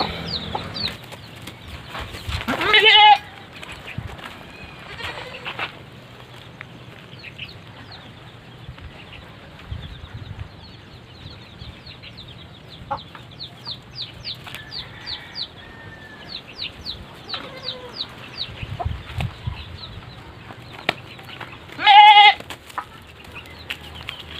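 Goats kept on a Filipino farm bleat now and then, with loud close cries near the start and end and quieter farmyard clucking and rustling in between.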